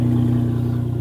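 A Ferrari 599 engine runs in a steady, loud, close drone, holding an even pitch throughout.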